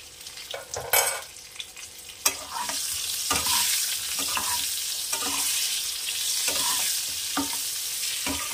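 Eggplant pieces with turmeric and salt frying in hot oil, a continuous loud sizzle broken by repeated scraping and stirring knocks of a utensil in the pan, with no one speaking.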